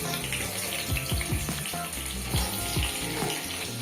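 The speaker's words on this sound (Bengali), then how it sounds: "চিংড়ি মাছগুলো যে তেলে ভেজেছিলাম ওই তেলটার মধ্যে আলুগুলো ছেড়ে দিলাম।" Diced potatoes drop into hot oil left from frying shrimp, giving watery sizzling and bubbling with several sharp splashes, close and moderately loud.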